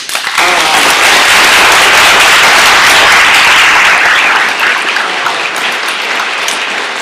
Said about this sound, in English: I want to applaud them right now.